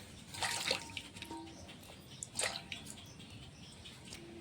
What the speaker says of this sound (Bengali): কাঁঠালটা কাটা হয়ে গেছে ধুয়ে নিচ্ছি